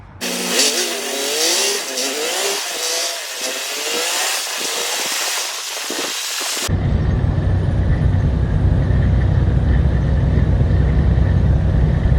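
A truck hauling a hooked-up trailer drives away at a roadside rest area, its engine droning loudly and steadily at first, then cutting to a deep, rumbling low hum that carries on to the end.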